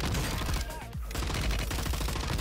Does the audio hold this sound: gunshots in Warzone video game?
yes